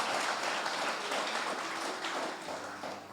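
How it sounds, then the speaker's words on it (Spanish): A church congregation at a Spanish-language Bible study breaks into a short, dense round of applause, steady and slightly distant, with the clapping easing off near the end. "Yo quiero que le den un aplauso al que vive y reina por los siglos de los siglos."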